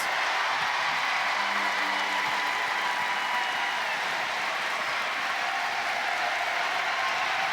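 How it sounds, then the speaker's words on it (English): Crowd noise in a basketball arena during a women's college game, Clemson against NC State: a steady, loud roar with scattered clapping that holds evenly throughout. "Crowd getting loud as Thompson on the free throw line."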